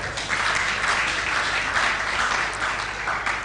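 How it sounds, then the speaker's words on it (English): Steady, dense audience applause fills a conference hall, loud and continuous throughout without pause. "Another round of applause for him."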